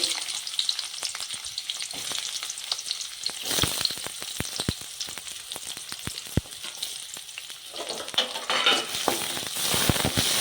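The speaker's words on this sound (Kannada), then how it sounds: "ಇವು ಹಂಗೆ ಚಟ್ಪಟ ಫ್ರೈ ಆಗ್ಯಾವಲ್ರಿ" Peanuts and chana dal crackle and sizzle in hot oil in a pan, a steady close frying hiss dotted with sharp popping crackles throughout.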